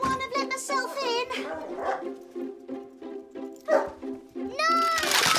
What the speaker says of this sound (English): It's Grandma and Mossy the dog